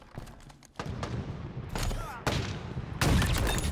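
A sniper rifle fires in a ranked online sniper match, with sharp, loud shots in quick succession amid other gunfire and game noise, growing stronger toward the end.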